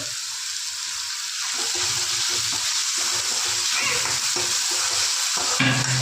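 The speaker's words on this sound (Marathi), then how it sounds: "टोमॅटो आणि कांदा थोडी तेलात भाजून आता थोडं कोबरा किस टाकून घेऊया" Tomato and onion frying in oil, a constant close hiss of sizzling with faint stirring scrapes mixed in, a brief louder crackle near the end, and no speech.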